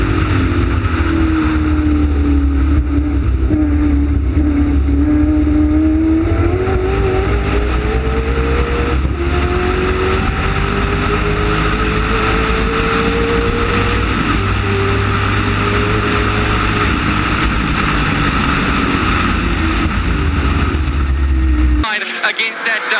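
Race cars, among them a big V8 Mustang, roar past at speed during a heat, their engines rising and falling in pitch as they accelerate through corners, loud and continuous under a commentator's running talk, cutting off abruptly at the end.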